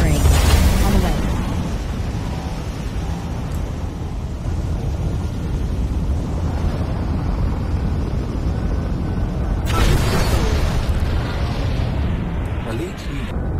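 Weapons firing and explosions in the Star Citizen space combat game, a steady dense rumbling roar with a sharp burst near the start and another swell around ten seconds, with voices talking over it.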